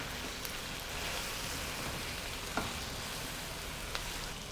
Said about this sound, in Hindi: मसाले डालने के बाद इसको हम ऑयल में भून लेंगे।